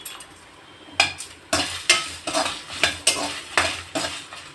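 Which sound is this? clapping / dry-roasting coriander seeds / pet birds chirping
dry-roasting coriander seeds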